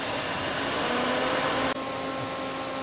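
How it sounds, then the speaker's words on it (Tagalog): A 2024 Toyota Vios XLE with a 1.3 liter dual VVT-i engine idles in a steady, smooth, fairly quiet hum, with faint even mechanical whirring continuing alone throughout. "Tahimik yung makina."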